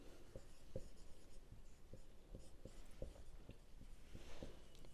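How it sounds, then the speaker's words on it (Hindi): Pen writing an answer on paper during a math lesson, a quiet series of short irregular scratches and taps with brief strokes, close and soft, with no talking. "चलिए अंत में आंसर लिख देते हैं।"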